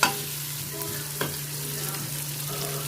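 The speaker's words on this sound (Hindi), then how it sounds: "हम थोड़े से प्याज हमारे फ्राई हो जाएं" Onions fry with ginger and garlic in a pan, a steady moderate sizzle with occasional stirring clinks and scrapes, close and continuous without talk.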